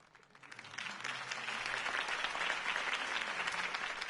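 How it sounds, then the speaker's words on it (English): Crowd applause for Harvey Dent's campaign speech in a Batman video game, swelling from scattered claps into a sustained, fairly distant roar of many hands that holds steady to the end. "If only Mr. Wayne, my campaign's largest backer, could have heard that applause"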